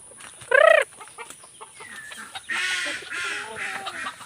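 A mother hen with her chicks gives a loud, short clucking call near the start, then a stretch of softer clucks and peeping that carries on steadily to the end.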